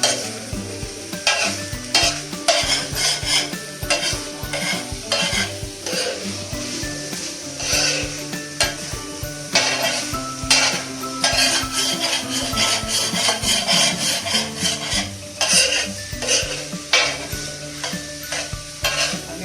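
Keema is fried and stirred on a hot tawa, a steady sizzle broken by repeated scraping strokes of a spatula against the metal, loud and close without speech.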